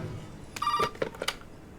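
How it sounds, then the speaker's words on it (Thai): A telephone in the horror game Resident Evil 7 gives a short electronic ring in a few quick bursts, moderately loud over a low ambient murmur. "โทรศัพท์เข้าอ่ะ อ่า รับโทรศัพท์ก่อนแล้วกัน"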